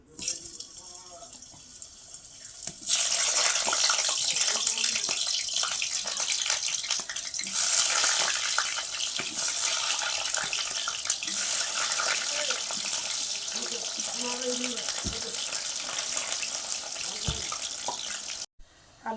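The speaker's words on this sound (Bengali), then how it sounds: "তেল গরম হয়ে গেছে আলুগুলো ভেজে নেবো" Potatoes fry in hot mustard oil in a wok, a steady, dense sizzle that starts abruptly after a quieter opening and hisses loudly and continuously to the end, with faint kitchen clatter mixed in.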